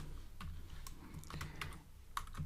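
Someone types on a computer keyboard, close and fairly quiet, with irregular individual key taps spread across a couple of seconds.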